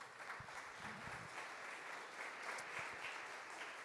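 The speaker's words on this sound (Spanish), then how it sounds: "¿Puede darle un aplauso al Señor?" A church congregation applauds steadily during a sermon, a sustained, even wash of many hands clapping heard from a distance for several seconds, with a few louder nearby claps.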